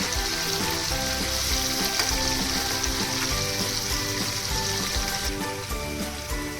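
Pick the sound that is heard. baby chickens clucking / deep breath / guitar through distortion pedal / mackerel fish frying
mackerel fish frying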